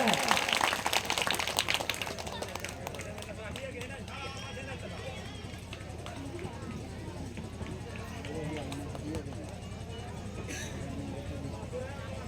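Crowd applause rises to welcome guests being garlanded at an outdoor Bhagavat Katha religious gathering in a village, with dense, loud clapping at first that thins into a steady patter over a murmur of voices.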